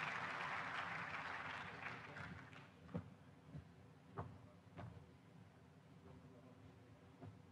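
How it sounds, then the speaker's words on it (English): Audience applause at an energy-sector stage ceremony where officials gather for a family photo and an agreement signing. A dense burst of clapping fills the first seconds, then thins into scattered claps and knocks over a murmuring room. "Let's give them a round of applause as they come to stage."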